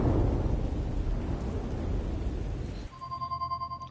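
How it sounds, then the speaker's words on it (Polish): Thunderstorm in the PS5 adventure game Wet Dreams Dry Twice: a heavy, dense roar of rain and rumbling thunder fills the first few seconds, then cuts off abruptly and gives way to a repeating electronic telephone-style ringing tone. "Burza naszła."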